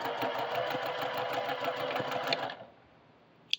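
A sewing machine runs steadily for about two and a half seconds, chain piecing green fabric pieces with a fast, even whir, then stops, followed by near quiet and one sharp click.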